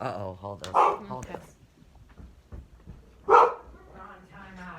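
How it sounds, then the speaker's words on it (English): A dog barks in two short, loud bursts, one early and one a few seconds later, with people talking throughout. "that's the dog."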